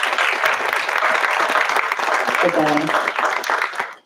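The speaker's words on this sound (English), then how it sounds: "I'd love to have a round of applause for" Audience applause at a lecture, a dense sustained clapping from a crowd that fills the whole stretch before thinning out at the end, with a brief spoken name from the host over it.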